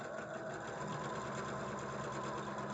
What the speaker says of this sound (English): This time we're going to sew down a 1/4 inch away from each of the lines.